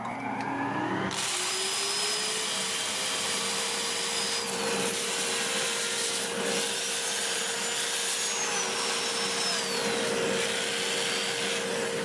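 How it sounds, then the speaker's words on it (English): A dust collector roars steadily and loud while spalted walnut is sanded on a lathe turning at about 400 RPM, a constant whooshing drone with faint rubbing underneath and no talking. "I'll have the lathe turning at about 400 RPM. I'm going to get my dust collector on"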